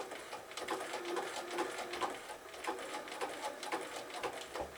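Close, steady whirr of a home sewing machine zig-zag stitching fabric appliqué for birthday bunting, its fast needle pattering evenly throughout with no break.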